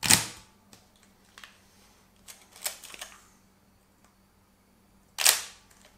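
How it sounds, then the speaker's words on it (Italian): A Leica R8 SLR camera fires its shutter at 1/125 second: crisp mechanical clicks and snaps, one sharp release at the start, a cluster of smaller clicks midway and another clear shot near the end, close and isolated in a quiet room. "È veramente uno scatto molto piacevole"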